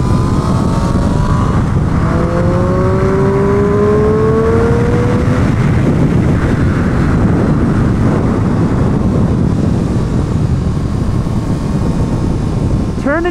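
Triumph Street Triple R motorcycle ridden on a race track on street tyres, engine revving up and shifting with rising whines early, then a loud sustained roar of wind and exhaust throughout.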